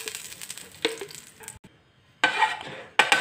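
Ghee hitting and being spread in a hot pan for a cheese bread omelette, soft scraping and sizzle with a few sharp utensil clinks against the pan, loudest toward the end.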